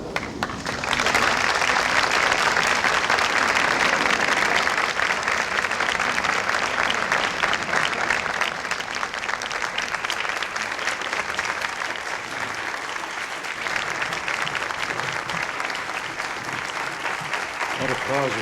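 A large audience in the White House applauds for the President, Mrs. Reagan and Mother Teresa, loud and continuous clapping that swells at the start and holds for a long stretch, with cheers mixed in.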